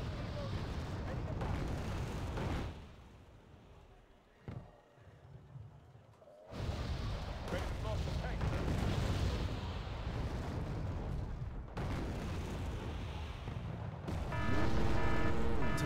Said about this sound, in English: Good artillery by our opponent.